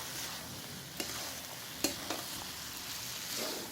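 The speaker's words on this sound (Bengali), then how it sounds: "প্রথমে একটু জল দিয়ে দিলাম দইটাকে এটাকে ভালো করে নেড়ে করে দেবো" Raw jackfruit and prawn curry being stirred in a pan after water and yogurt go in, with a soft continuous sizzle, scraping swishes and a few sharp utensil clinks against the pan, close and fairly quiet.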